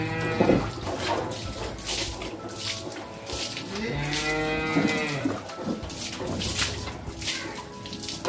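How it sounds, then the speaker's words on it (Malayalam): A cow lows with a long, drawn-out moo at a dairy farm where cows are milked, heard up close over faint farmyard background. "ഇനി റോസി അമ്മച്ചിയുടെ പശുക്കളുടെ കറവയും മറ്റു കാര്യങ്ങളും നമുക്ക് കാണാം."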